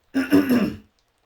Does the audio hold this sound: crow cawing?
no